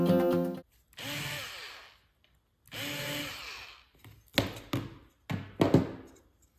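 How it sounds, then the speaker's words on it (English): Short bursts of a handheld deburring tool working holes in an aluminum RV-12 aircraft test kit part, two longer spins followed by several quick sharp grinding touches, close and clear. "So it looks like all we really need to do is deburr these holes in here."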